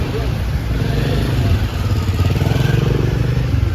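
A motorcycle rides along a flooded, muddy, garbage-strewn road in Cebu, its engine a steady, fairly loud mid-range drone with water sloshing and clatter throughout.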